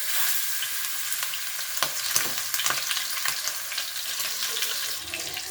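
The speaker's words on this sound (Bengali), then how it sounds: "আঁচটা কমিয়ে দিয়ে আমি একটা একটা করে কাবাব আমি তেলের মধ্যে দিয়ে দেবো।" Chicken kebabs frying in sunflower oil on a tawa over low heat, a steady close sizzle with a few sharper crackles and pops as pieces settle into the hot oil, no voices.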